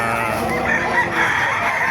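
A rooster crows loudly and close at a chicken market in Bocaue, Bulacan, a sustained drawn-out call filling the whole moment, with faint background noise.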